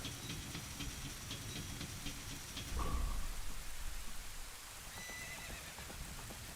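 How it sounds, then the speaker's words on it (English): Rain falling steadily in Ocarina of Time, with a horse's hoofbeats and a short whinny partway through, all fairly faint and with no music. "you just hear the rain and you hear the horse's footstep"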